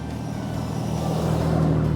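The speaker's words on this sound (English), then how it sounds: "we'll start the video after this big red truck passes us" A big red truck rumbles along the road past a roadside e-bike rider, a deep engine drone with a steady low hum that grows louder as it nears.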